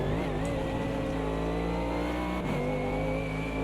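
Race car engine from the Automobilista 2 racing game during an online race, a loud sustained mid-pitched drone with harmonic whine that holds steady, dips briefly around halfway, then climbs back, no talk over it.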